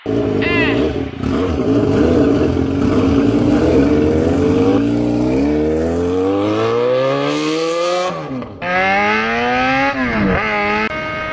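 Motorcycle engine revving and racing up through its range, the pitch climbing steadily and then dropping sharply before rising again, loud and continuous throughout.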